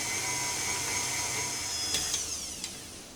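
An electric mixer whisks four large eggs with caster sugar, a steady, close motorized whir that holds level before a few sharp knocks near the end.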